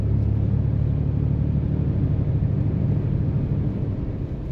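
Truck rolling along a road, a steady low engine rumble that stays strong and fades slightly at the end, fairly close.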